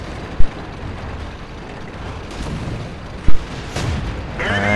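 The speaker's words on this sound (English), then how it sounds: "Their artillery managed to appear." Distant artillery fire in the World of Tanks video game: two sharp booms about three seconds apart, over a steady engine rumble with a faint mechanical whir near the end.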